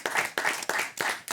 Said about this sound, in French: l'un comme l'autre mérite vos applaudissements, s'il vous plaît, messieurs, dames, et bravo